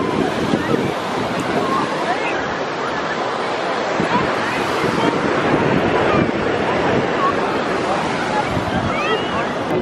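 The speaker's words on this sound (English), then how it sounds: "Oh, big ass waves." Ocean waves crash on a Los Angeles beach with cold water, a loud, continuous roar of surf mixed with wind buffeting the microphone and faint voices in the background.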